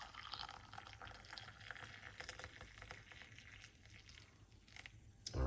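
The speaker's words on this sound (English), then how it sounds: "the kettle and pour in the hot water like this." Hot water pours from a kettle into a cup with honey, a quiet, continuous liquid trickle and splash with faint patter, closing on a brief louder knock, no talking.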